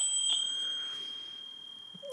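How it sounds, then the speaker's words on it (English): A small bell on a Hasbro toy adding machine rings as the machine is opened, a faint, sustained metallic tone that decays, followed by a soft click near the end. "when you open it up, the bell should ring."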